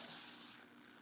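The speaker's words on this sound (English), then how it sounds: "And then you're going to spray the edge that may not be covered." Cooking spray hisses onto parchment paper lining a pan, one short steady burst that cuts off partway through.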